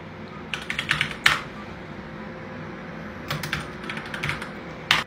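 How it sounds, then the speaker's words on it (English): Fingers type a website address on a computer keyboard: quick clusters of close keystroke clicks in two separate bursts with a short pause between, over a quiet room hum. "Can you go and type in publicdatacheck.com, please?"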